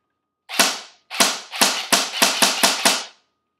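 A Lancer Tactical LT-06T M4A1 airsoft gun fires eight sharp, close, loud semi-auto shots, first spaced apart and then quicker in an even rhythm, with no talking.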